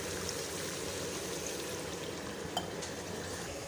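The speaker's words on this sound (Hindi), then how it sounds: "तो फ्रेंड्स अभी डाल रही हूँ इसमें पानी मैं" Water poured into a simmering pot of chicken and potato curry, a soft steady rushing stream with faint bubbling, quiet and unbroken, with no talking.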